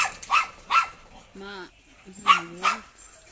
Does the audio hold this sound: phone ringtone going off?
no